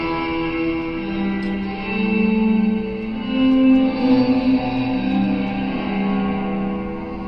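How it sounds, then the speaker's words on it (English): Guitar run through cheap homemade DIY pedals with reverse, reverb and delay creates a sustained, washy ambient drone of overlapping swelling notes, steady and fairly loud throughout. "But when you add that extra like reverb on top of it"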